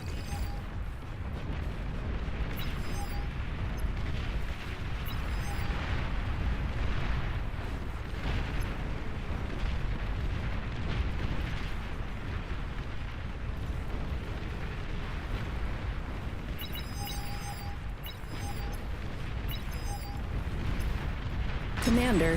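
Explosions and artillery rumble from the real-time strategy video game Beyond All Reason, a dense continuous barrage of booms and bursts at moderate loudness, with a talking voice over the game sound.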